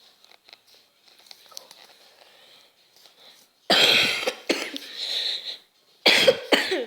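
Close, loud coughing breaks out in two harsh fits after a stretch of quiet rustling and faint background sounds.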